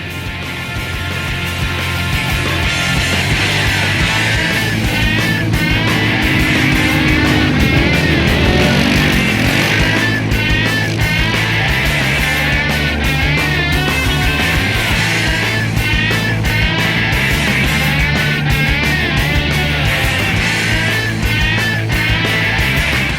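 Polaris quad bikes racing over a rutted dirt track, engines revving loudly and continuously as they throttle through dips and corners, close and sustained with shifting pitch, no speech.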